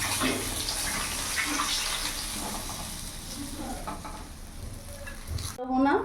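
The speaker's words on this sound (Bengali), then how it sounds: "কাতলা মাছগুলো ভেজে নিয়েছি লাল লাল করে এবার নামিয়ে ফেলবো" Big pieces of katla fish fry in oil with a loud, steady hiss and crackle, punctuated by occasional spatters and utensil movements, ending with an abrupt shift near the close.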